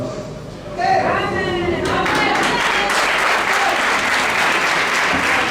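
A church congregation bursts into sustained applause, dense clapping rising suddenly after a brief spoken phrase and continuing steadily and loudly to the end.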